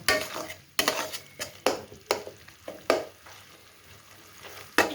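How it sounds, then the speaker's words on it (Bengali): Spice paste with cumin powder fried and stirred in a pan for a Bangladeshi eggplant curry, a soft sizzle broken by repeated sharp scrapes and knocks of the spoon against the pan at an uneven rhythm. "এই মশলাটাকে খুব সুন্দর করে কষিয়ে নেব"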